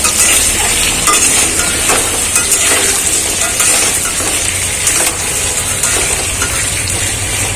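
Potato pieces frying in oil in a pan: loud, steady, dense sizzling and crackling that continues throughout with no talk.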